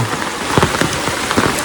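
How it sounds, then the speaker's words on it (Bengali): Heavy rain pounds steadily on a surface, a dense hiss with scattered louder drops hitting close by. "এ বৃষ্টি আর জোরে এলো"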